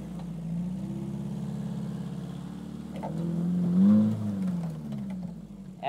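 A Suzuki Samurai's engine labours off-road in four-wheel-drive low range, a steady mid-pitched drone that swells briefly into a rev before settling, close and continuous.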